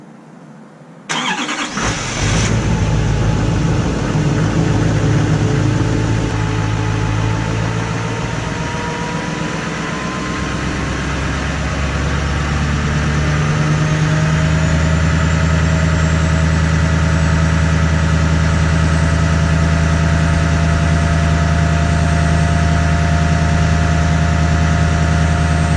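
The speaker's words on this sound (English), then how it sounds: "So here you go with the cold start." A Mercedes E300 with the OM606 diesel engine cold-starts after a brief crank, then settles into a loud, steady, rattling diesel idle that runs on close by with no talking.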